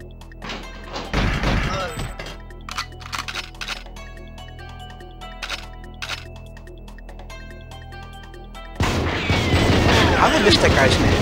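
Gunfire in the video game GoldenEye 007 comes as sharp, close, sudden bursts of shots and impacts, with quieter gaps between them and a denser barrage near the end.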